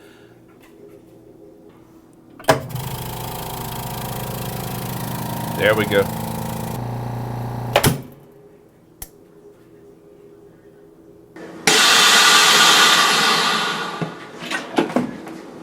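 Vacuum sealer running a 40-second vacuum cycle on a bag of Berkshire pork chops, then a short double-line seal: a steady motor drone stops, and a brief louder hissing burst follows, with a voice speaking briefly.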